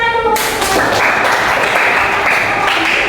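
Classroom applause, a loud, dense patter of many hands clapping together, continuous and close for a few seconds.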